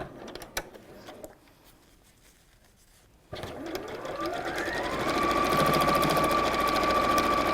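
Domestic sewing machine stitching across tucked-in bag straps on a pleated bag, running steadily and loud after a brief pause, with its whirring motor rising into continuous rapid stitching.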